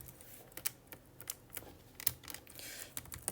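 Quiet typing on a computer keyboard, a handful of sharp, separate key clicks with gaps between them against a soft background.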